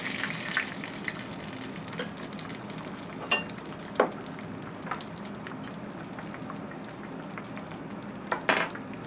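Deviled eggs deep frying in oil, a continuous bubbling sizzle with occasional light clinks and taps of utensils against the pot, moderately quiet and close, no talking.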